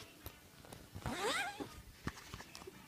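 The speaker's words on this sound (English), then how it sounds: "Now, a cool thing about this is it actually has a zipper right here." The zipper on a bamboo adjustable pillow cover is pulled open in one quick rasping stroke, preceded and followed by soft fabric handling and light taps close by.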